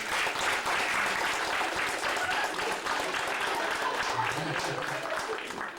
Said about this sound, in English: Let's give God a hand clap for our children